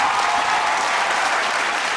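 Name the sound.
studio audience applause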